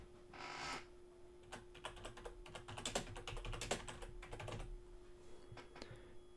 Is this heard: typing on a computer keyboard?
yes